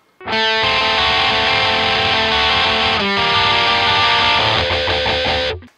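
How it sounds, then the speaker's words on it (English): Electric guitar strums sustained, heavily overdriven chords, a dense distorted wall ringing loud and continuous for several seconds with a brief change of chord midway before cutting off. "Or there is the more chord version."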